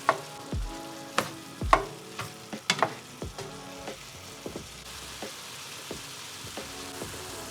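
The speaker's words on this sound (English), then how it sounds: "now that most of the liquid of the meat has consumed, we're gonna add our zucchini. And we're gonna let it cook completely." Zucchini and ground meat cook in a pan for lasagna, sizzling softly under repeated stirring and utensil clacks, loudest at first, then settling into a quieter, steady fry.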